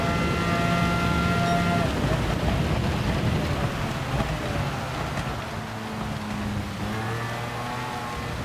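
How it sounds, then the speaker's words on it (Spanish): Extreme rain pours down in the racing game Gran Turismo 7 as a loud, dense roar of water, with engine drones rising and falling underneath. "Lluvia extrema."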